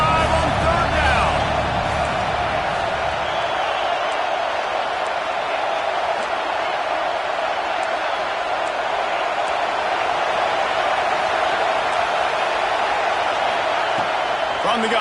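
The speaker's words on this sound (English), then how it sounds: "The Buckeye crowd alive on third down." Buckeye crowd roaring at an Ohio State versus Georgia college football game on third down, a dense, loud, continuous wash of stadium noise that stays level throughout.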